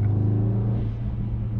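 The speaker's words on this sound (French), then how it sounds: "t'entends les turbos qui se chargent" A deep, steady engine drone with a low rumbling hum holds at high revs as a Mercedes-AMG E63 S (612 hp) spools its turbos in race start launch control, held in place before launch.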